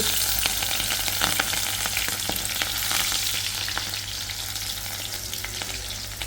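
Green chillies and onion fry in hot oil in a home kitchen, giving a steady, loud sizzle that crackles and spatters throughout, with occasional scraping of a spatula.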